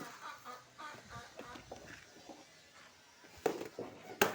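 Free-range country chickens on a rooftop terrace cluck softly as they peck at rice, with scattered low clucks and light pecking taps. A couple of sharper knocks sound near the end, and there is no speech.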